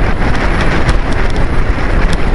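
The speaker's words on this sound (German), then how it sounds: "Total Wind" Strong wind buffets the microphone on a long road-bike ride in open country, a loud, constant roaring rumble with gusty fluctuations and nothing else audible.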